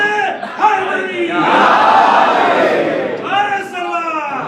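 A gathered crowd at a memorial religious assembly roars a slogan in unison in reply to a Naara-e-Haidari call, a loud, sustained collective shout after a brief lead voice, followed by another voice calling out.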